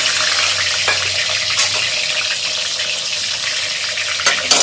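Bora fritters frying in hot oil on a stove, turned down from high to low heat: a steady, loud broadband sizzle throughout, with a few brief clinks and stirring knocks near the start and end, no talk.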